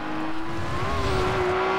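A Bugatti Veyron engine in the racing video game Forza Horizon 2 drones steadily with a rising pitch, a continuous car engine tone heard alone.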